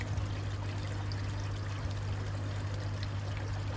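Water being drawn through an inline prefilter basket, a steady rushing, trickling flow with a constant low hum underneath and faint gurgling of air, continuous and close throughout.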